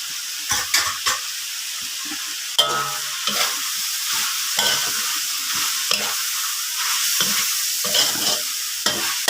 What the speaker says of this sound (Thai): ผัดแบบบ้านๆไง ไม่ต้องไปใส่อะไรมันเยอะ